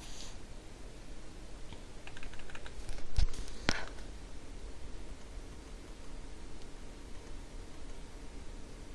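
Code goes into a computer through a few soft keyboard taps and clicks, clustered briefly midway over faint steady background noise.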